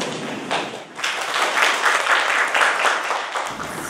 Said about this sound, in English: Please welcome Professor Sirkku Kotilainen with big applause.